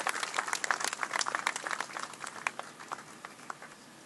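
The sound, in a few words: audience applause for the speaker at a groundbreaking ceremony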